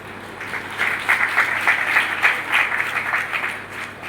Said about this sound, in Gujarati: જેને આ પ્રશ્નના જવાબ આવડી ગયા હોય એ તાળી વગાડે